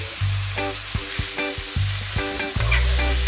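Tomatoes cook in a pan with a steady close sizzle, broken by several knocking scrapes of a utensil against the pan at uneven intervals, loud and without voices.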